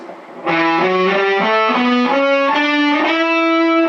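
A distorted electric guitar plays a rising Byzantine Dorian scale, one sustained note after another in steady succession, loud and alone.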